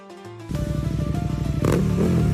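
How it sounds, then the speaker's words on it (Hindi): A new motorcycle rides at speed, its engine note rising from a low idle into a fast, steady throb with a harder surge near the end, loud and close with no voices. "नई बाइक पर रफ्तार का मजा लेते हुए"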